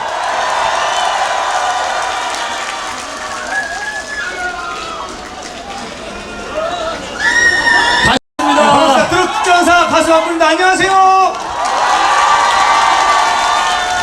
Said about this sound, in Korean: 자, 다 같이 박수 함성 주세요!